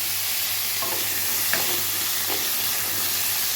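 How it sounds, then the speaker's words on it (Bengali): Potatoes fry in a pan with a steady, soft sizzling hiss, broken by a few light stirring scrapes. No one speaks. "আলুগুলো একটু ভেজে নেব"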